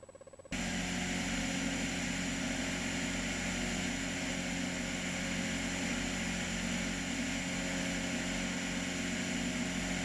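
A Zenith Cruzer light aircraft's propeller engine drones steadily in cruise flight over the Latrobe Valley in Gippsland on a cold day, loud and close from a brief quiet start, with no talking.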